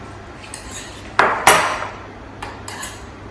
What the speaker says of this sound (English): If I keep stirring, it'll keep melting.